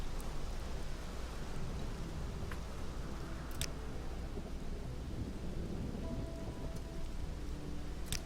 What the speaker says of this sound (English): glad to get out of this rain.